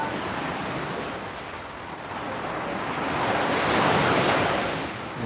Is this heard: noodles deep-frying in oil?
no